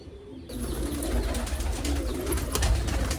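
Soft, repeated pigeon cooing close by from pet pigeons, including breeding pairs with young, low throaty calls over a steady background hum, no voices.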